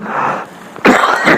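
A harsh, wheezy cough bursts out close and loud after a breathy, rasping lead-in, with no talking.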